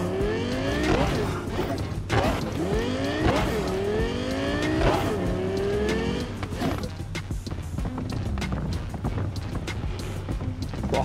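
Car driving in Cyberpunk 2077, an engine droning steadily with rising and falling pitch sweeps as it shifts and accelerates, loud and continuous throughout.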